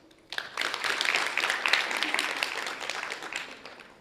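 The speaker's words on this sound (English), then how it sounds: "Please clap if you speak a different language." An audience at a college TEDx talk breaks into clapping, a dense burst of many hands that swells quickly, holds for a few seconds and then tapers off.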